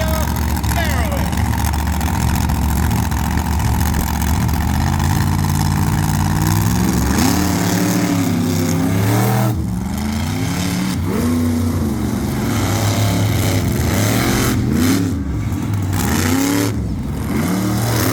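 Monster truck engines at an outdoor show, a loud continuous rumble of idling with several rising and falling revs as the trucks are staged for a race, while an announcer talks over a loudspeaker throughout.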